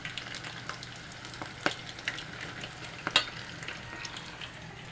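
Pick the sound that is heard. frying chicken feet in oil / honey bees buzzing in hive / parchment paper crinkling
frying chicken feet in oil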